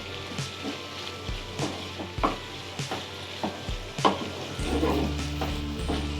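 Chicken keema sautéing with spices in a pan, intermittent scraping stirs over a soft sizzle, close and fairly quiet, growing busier toward the end.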